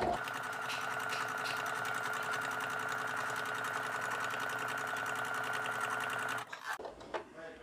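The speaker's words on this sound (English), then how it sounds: "So now let's test to see if our twin needle is working." A sewing machine fitted with a twin needle runs continuously up close, a loud even mechanical whirr that stops abruptly near the end, followed by a few faint handling clicks.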